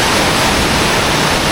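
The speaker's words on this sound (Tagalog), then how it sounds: "Tinuyan Falls. Pero kakaiba tong falls na to, ang lapad oh." Broad Tinuyan Falls in Surigao del Sur roars with a strong water flow, a loud, steady, close wash of noise with no voices.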